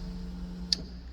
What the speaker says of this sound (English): it does click though, with a strong click actually.